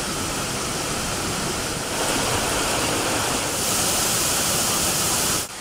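A waterfall pours in a steady, dense rush of falling water, loud and close, with no voices.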